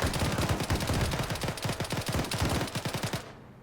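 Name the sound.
gunfire from the video game Arma 3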